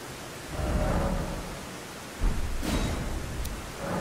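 Steady rain hiss in the video game Elden Ring, a continuous wash of falling water with a soft low rumble and a couple of faint sharp ticks, moderately quiet and without talk.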